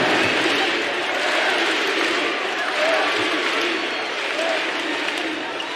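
Basketball arena crowd roaring and applauding in a steady, loud wash of cheering that swells slightly around the middle and holds throughout.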